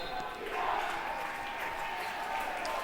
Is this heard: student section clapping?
yes